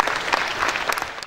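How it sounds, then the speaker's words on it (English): An audience at an annual assembly of registered quantity surveyors applauds in a brief, steady wash of many hands clapping, fairly close and even in volume throughout. "Please clap for Mr. President."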